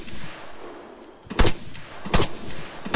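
.50 cal machine gun fire in Sa-Matra Wasteland comes in three loud, heavy bursts about a second apart over a rumbling game backdrop.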